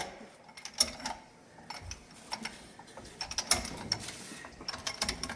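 A jack under a vehicle ratchets in irregular bursts of sharp metallic clicks, fairly quiet and near, with short pauses between strokes.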